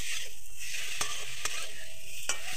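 Grated carrot and beetroot sautéing in a pan give a dense, close sizzle, broken by a few sharp spatula scrapes and knocks against the pan.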